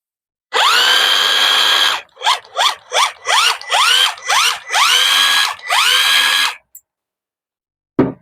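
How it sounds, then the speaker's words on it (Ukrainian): Cordless impact wrench running close by in a series of bursts: a long whir, several short rapid triggers, then two more long runs, loud, with rising pitch at each start and silence between. "гайковерт працює"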